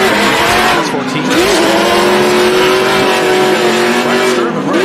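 Race cars drifting in tandem, with loud sustained tire squeal and skidding over roaring engines, one continuous screeching pass close by.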